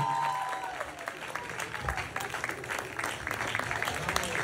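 Audience applause after a live duet performance on a Turkish stage, a dense, steady clapping that fills the room at moderate volume from start to finish, with a short musical tone near the beginning.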